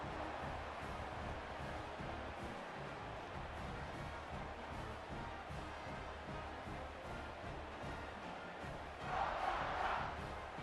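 Stadium crowd in College Football 26 during a Hawaii vs Oregon game, a steady dense roar of cheering that swells louder near the end, heard alone without talk.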